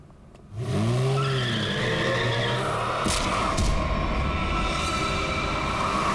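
A car driven recklessly skids with a loud, rising tire squeal over a roaring engine, the screech wavering before giving way to sustained road and motor noise.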